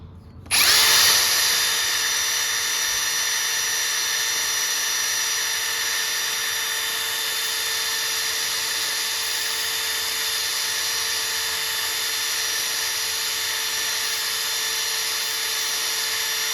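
A power drill fitted with a Dremel deburring bit spins up abruptly and holds a steady high-pitched whine for a long stretch, loud and close, with no voices.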